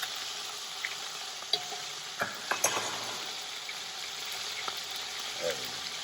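Turkey necks browning in a pot, a steady loud sizzle and frying hiss throughout with a few light clicks and scrapes of a utensil, no talk.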